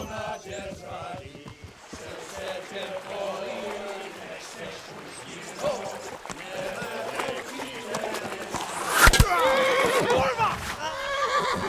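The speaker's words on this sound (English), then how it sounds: "That's the horse!" A horse neighs and whinnies in the video game Kingdom Come: Deliverance, with several loud whinnies over hoofbeats and a busy scene, while voices talk in the background.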